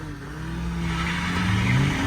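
A Hyundai Creta Turbo and a Honda City accelerate side by side in a drag race, engines droning with a rising pitch that grows steadily louder across the run with no talking.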